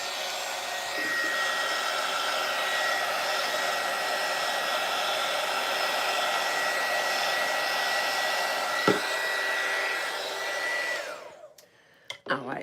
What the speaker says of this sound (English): I'm going to take my heat gun just real quick and put a little heat on it